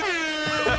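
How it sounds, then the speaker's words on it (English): Air horn blares at an esports championship win, a single loud, steady harmonic blast held for under a second amid the celebration. "Confetti falls, the air horn sounds"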